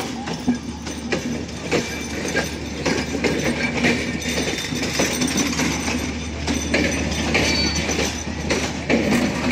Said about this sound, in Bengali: প্রবেশ করলো দ্রুতযান।